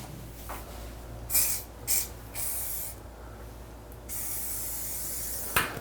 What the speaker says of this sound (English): I'm just gonna rinse the bathtub to try and get all that excess sealer off of there.